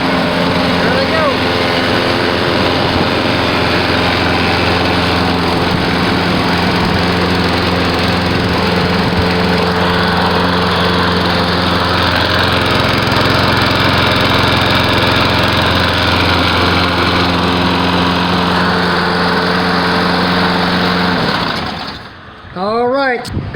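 A repaired lawn mower engine runs steadily and loudly close by for the whole stretch, a constant droning buzz that cuts off near the end.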